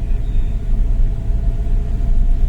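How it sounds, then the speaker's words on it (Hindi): A Hyundai Elite i20 Asta diesel engine gives a close, steady low roar, a deep rumbling drone with no clear revving peaks. "मैं कह रहा था इंजन की जो रोर है उसका कोई जवाब नहीं है।"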